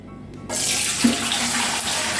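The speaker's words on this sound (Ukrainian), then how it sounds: "І тепер беру ось цю кастрюлю, у якій ми будемо з вами варити його, сік кип'ятити, виливаю сюди" Birch sap poured from a jar into a saucepan, a sudden steady splashing pour that starts abruptly and runs on continuously, close and fairly loud, with no voices.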